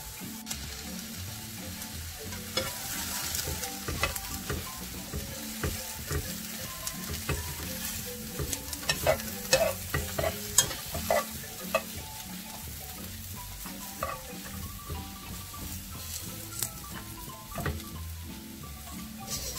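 Ingredients roasting in a pan for Guatemalan kak'ik, giving a low, continuous crackle with scattered light scrapes and clicks from stirring throughout.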